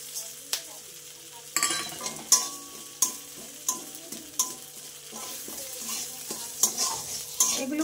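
Coriander, cumin, poppy seeds and black pepper sizzle in hot oil in a wok, with a steady frying hiss broken by regular sharp scrapes and taps of a spatula stirring, close and alone.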